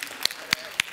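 Scattered applause from an audience welcoming a speaker on stage at a live property event, with a few sharp distinct claps standing out over a low background murmur and some talk.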